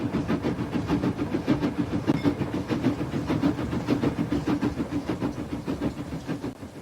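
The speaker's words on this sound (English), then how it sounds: "When you see a steam train rolling through a green chunk of England" A steam freight train rolls steadily past through English countryside, its wheels beating a rapid rhythmic clatter over a rumbling low engine drone.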